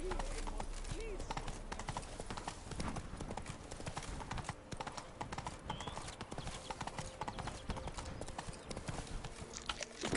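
Geralt's horse Roach trots in the Witcher 3 video game, a steady rhythmic clip-clop of hooves that runs throughout beneath a voice and dense game ambience.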